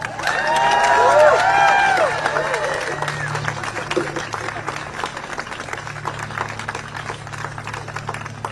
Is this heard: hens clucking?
no